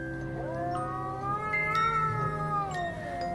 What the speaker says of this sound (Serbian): ali sam videla mačku koja se pojavila odnekud.